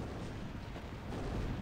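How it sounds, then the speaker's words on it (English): A unit's death explosion in the strategy game Zero-K gives a dense, rumbling blast of noise, loud and sustained through the short clip with no talk over it. "that death explosion's always the death explosion"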